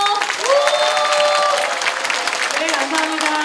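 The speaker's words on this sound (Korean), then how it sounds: "다 같이 뜨겁게 박수 한번 주십시오" An audience claps steadily at a Democratic Party invited lecture in Jungnang, a dense, close burst of applause lasting throughout while a voice speaks over it.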